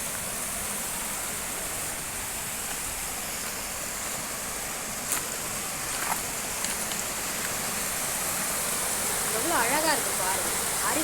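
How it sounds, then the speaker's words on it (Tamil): A waterfall pours down a hill at Perambalur, giving a steady, dense roar of rushing water that fills the whole scene at close range, with a few faint brief sounds on top. "செம்ம ஸ்பீடாக வருது பாருங்கள் தண்ணி மேலேருந்து வருது பாருங்கள்"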